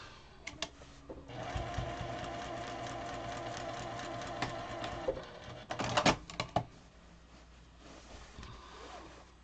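A sewing machine stitches an 18-inch fabric pillow, running in a steady close burst of rapid needle chatter for several seconds, then pausing with a few sharp clicks and short stops as the work is adjusted.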